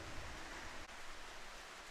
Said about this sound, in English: it's well and truly raining now